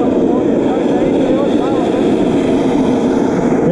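A radio-controlled MiG-21 model's turbine jet engine idles after landing, a steady loud whooshing roar with a high whine that holds constant throughout, with someone talking over it.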